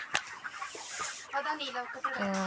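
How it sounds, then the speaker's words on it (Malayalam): A chicken clucks close by in a short series of calls, with some faint background voices. "കോഴി"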